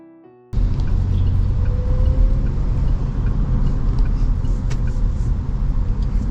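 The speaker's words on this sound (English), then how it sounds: "So we're now driving the Geely Azkarra." A 2021 Geely Azkarra crossover is driven, a steady low road and engine rumble heard from inside the cabin after a brief quiet start, with a faint rising whine partway through.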